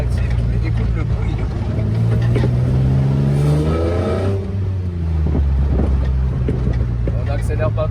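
A Jannarelly sports car engine accelerates on a bumpy street, its loud droning note rising in pitch over a few seconds, easing off, then building again. Someone talks over the engine.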